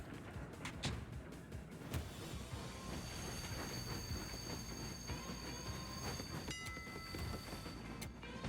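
Trains rumbling and rattling in the Party Animals video game, a steady loud mechanical clatter with occasional wheel squeals and metallic tones throughout, no one speaking.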